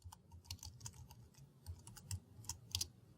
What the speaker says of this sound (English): Once you have your text editor open, simply type in some text as you normally would.